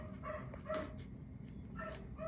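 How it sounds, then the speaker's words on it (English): A dog barks in a few short, separate bursts at moderate distance against a quiet background, with no one talking. "The dog's insane, man."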